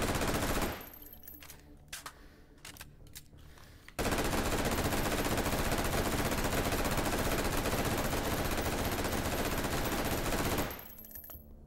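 A rifle emptying a 100-round Stanag magazine in the VR shooter Hot Dogs, Horseshoes & Hand Grenades, a few scattered shots and then an unbroken, loud sustained burst of automatic fire lasting several seconds before cutting off.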